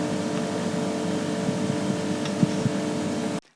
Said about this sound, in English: You know that whirring sound that occurs with fridges every now and then to keep the fridge cool or something.